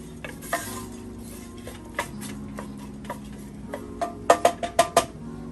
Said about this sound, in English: We're going to stir those up with our onions.